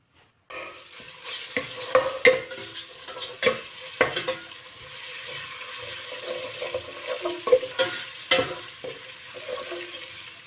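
Garlic and ginger sizzle steadily in oil while a utensil scrapes and clatters against the pan in irregular strokes, close up, with no voices.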